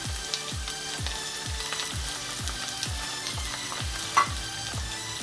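Carrots, capsicum, potato and other vegetables stir fry with salt for home-style chow mein, a constant sizzle broken by regular spatula scrapes about twice a second, close and steady.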